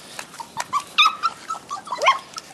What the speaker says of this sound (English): A whole herd of beagles.